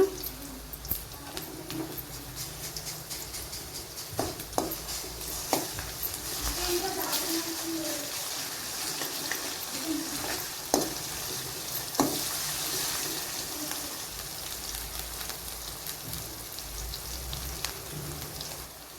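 Ginger garlic paste frying in a pan for a Telangana-style curry, a faint, steady sizzle with a few sharp utensil clicks, quiet and close, with occasional soft voice sounds underneath.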